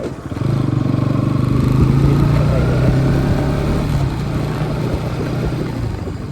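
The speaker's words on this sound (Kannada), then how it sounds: "ಬೈಕ್ ಬರ್ತಿದ್ದಾರೆ" Motorcycles on the forest road up to BR Hills, near Kollegal, one engine droning steadily up close with a low, even hum, slight clatter and revving carrying through the whole stretch.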